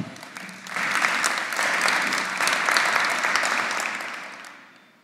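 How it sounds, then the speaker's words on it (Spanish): Warm, sustained applause from a seated audience at a formal public event honoring a federal court magistrate, swelling quickly to a steady roar and then fading out at the end. "Un fuerte aplauso también para el magistrado del Tribunal Federal de Justicia, Luis Naranjo Espinosa."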